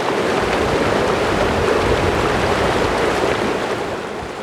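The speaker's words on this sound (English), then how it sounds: "All that could be heard was the river." A river flows steadily and close by, a dense, even rush of water that holds constant throughout and eases slightly at the end, with no voices.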